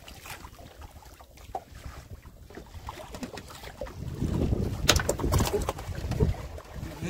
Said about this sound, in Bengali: ভীষণ সমস্যা, হাওয়া হচ্ছে জোরে